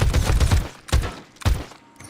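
Automatic gunfire in the Rust console game empties a 100-round magazine, heard as three loud, dense bursts of rapid shots separated by short pauses, with a faint mechanical clatter at the end.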